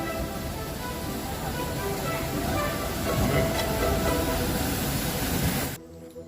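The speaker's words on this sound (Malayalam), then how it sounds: "നമുക്ക് പോകാനുള്ള വേളാങ്കണ്ണിയിലേക്കുള്ള പാസഞ്ചർ ട്രെയിൻ നമ്മൾ ട്രെയിൻ ഇറങ്ങി അതേ പ്ലാറ്റ്ഫോമിലേക്ക് വന്നുകൊണ്ടേയിരിക്കുന്നു" A passenger train bound for Velankanni pulls into a platform, a steady broadband rumble and hiss of wheels and carriages that holds loud and close for several seconds before cutting off abruptly.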